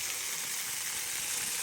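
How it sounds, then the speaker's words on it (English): Pepperoni sizzling and crisping in a pan, a steady, close hiss of frying fat with no pauses and no talk. "Once the pepperoni crisps up, these things are more or less done"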